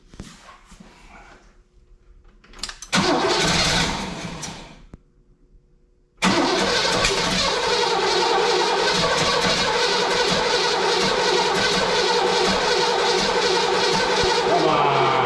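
An old Oldsmobile, wrecked decades ago, cranks on full choke and catches: a short burst of churning, a fading stall, then the engine fires and keeps running loudly and steadily to the end, with no one talking.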